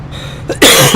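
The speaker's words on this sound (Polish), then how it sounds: "Sorry, ale mnie coś cholerny kaszel złapał." Someone with a spring cold coughs up close: a short hack, then a loud, raspy burst of harsh coughing.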